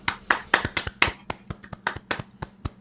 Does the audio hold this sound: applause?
yes